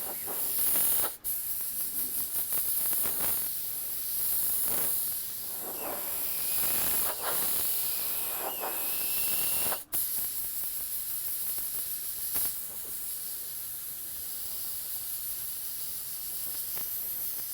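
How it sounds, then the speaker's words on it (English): A spray gun hisses in long continuous bursts while applying another coat of candy red paint tinted with other candy colors, broken by two brief pauses. "Spray a little bit of that out, and let's see how this next coat covers."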